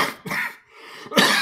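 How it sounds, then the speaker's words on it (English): Two harsh, close coughs separated by a short pause, loud and abrupt with no talking. "still got a little cough, pardon me."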